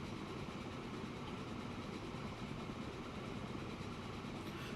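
A train runs in the Transport Fever video game as a steady, unbroken rumble with a faint rhythmic texture, constant in level throughout.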